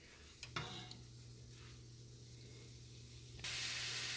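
Garlic cooks in a pan for chicken fried rice, a quiet hissing sizzle with a couple of sharp clicks near the start, then a sudden, brighter surge of sizzle toward the end.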